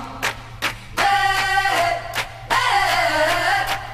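Pitched up 2.5 semitones, a sample of a song plays loud: sharp percussive hits, then sustained bright chords that swell, break, and return with steady rhythmic pulses.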